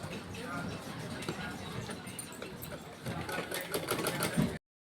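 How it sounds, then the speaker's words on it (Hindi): A sewing machine stitches a folded strip of blouse sleeve fabric, its rapid mechanical ticking running in uneven bursts close by while someone talks over it, stopping abruptly at the end. "फोल्ड करने के बाद इसमें लगाएंगे सिलाई।"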